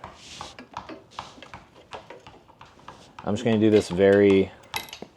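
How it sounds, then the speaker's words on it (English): Mounting bolts for an Inspired Overland Carbonlite X roof top tent on a 6th-gen Toyota 4Runner are tightened by hand. There are sharp, irregular metallic clicks and ratcheting ticks up close, and a voice talks briefly partway through. "I'll torque these down a bit just to get them snug"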